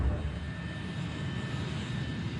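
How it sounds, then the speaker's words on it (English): American Airlines Flight 587, an airliner, taxiing toward runway 31L on a fine day, its engines giving a steady, continuous rumbling whine with no speech. "And Flight 587 begins to taxi to runway 31L."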